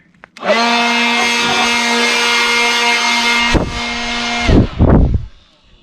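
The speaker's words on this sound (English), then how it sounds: "I got a leaf blower." A leaf blower starts up and runs with a loud, steady whine and roar, then sputters through a couple of surging bursts before winding down, used to blow dirt out of a Jeep Cherokee.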